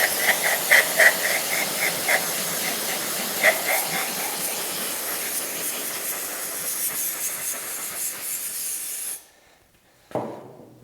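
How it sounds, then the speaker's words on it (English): A can of compressed air sprays hard to chill a metal belt pulley part for a shrink fit on a scale model steam engine. The spray is a loud, steady, close hiss with faint rattling, then cuts off abruptly and gives one brief final burst. "somebody had suggested these compressed air cans to chill it even further"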